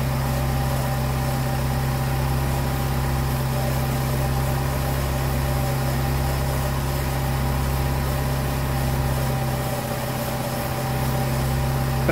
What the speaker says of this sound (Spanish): Y sí se escucha como una fuga, pues, de vacío por ahí.